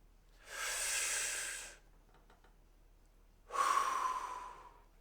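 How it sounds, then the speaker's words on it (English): A single breath, close and alone: a soft airy inhale lasting about a second, a short pause, then a stronger, slightly voiced exhale that trails off. "That's one breath."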